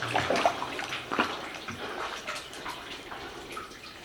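Water running and splashing through old mine workings beneath a large ore chute, a steady broad wash with brief louder surges near the start, close by and continuous with no talk.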